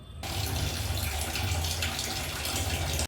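Water runs from a household tap in a steady, close, even gush that starts abruptly and flows on without pause. No voices can be heard.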